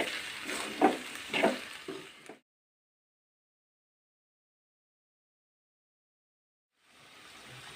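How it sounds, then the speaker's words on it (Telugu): Chana dal and cabbage curry fries with salt and chili, giving a close sizzle with a couple of sharp stirring scrapes. The sound then cuts to silence for several seconds before the frying hiss gradually returns. "ఉప్పు కారం వేసుకొని మొత్తం మంచిగా కలిపేసుకున్న తర్వాత ఒక మూడు నిమిషాల పాటు వేగనివ్వాలి"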